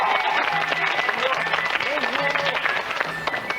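A TV studio audience claps to welcome balance performer Nicolas Bakchis on a 1992 French children's show, a dense crowd applause under a bed of music with sustained tones and a brief whoop.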